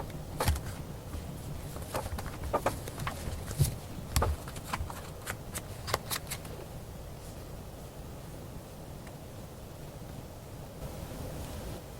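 Tarot cards are shuffled and drawn, giving a run of crisp, close snaps and flicks over the first six seconds before settling into a faint, steady hiss.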